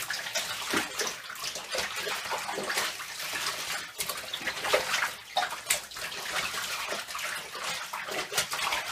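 Clothes are rinsed of excess laundry soap by hand in a tub of water, with repeated splashing and sloshing that comes in uneven bursts, close and fairly loud.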